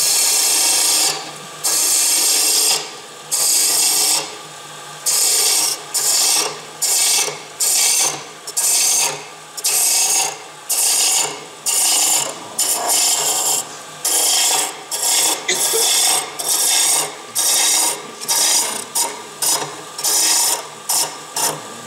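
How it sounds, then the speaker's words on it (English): A roughing gouge rasps against spinning wood on a lathe in a steady run of short, close scraping passes, each a bright burst separated by brief pauses, with no talking. "I'll use my roughing gouge to remove the rest of this"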